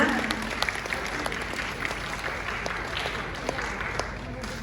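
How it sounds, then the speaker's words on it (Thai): An audience applauds performers on stage after a university arts-faculty show in southern Thailand, steady clapping with a crowd murmur and a few louder individual claps throughout. "ขอเสียงปรบมือ ทุกท่านบนเวที อีกสักหนึ่งครั้งนะคะ"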